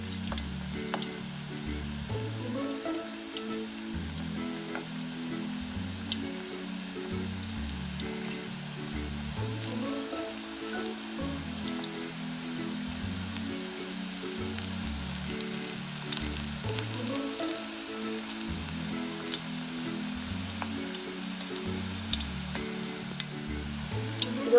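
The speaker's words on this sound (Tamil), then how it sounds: "இது ஒரு பக்கம் நல்லா ஃப்ரை ஆகட்டும், கொஞ்சம் கிறிஸ்பியாக வரணும்" Puffed rice pakoda balls deep-fry in hot oil over a medium flame, giving a steady, dense sizzle and crackle close by that runs without a break and without voices.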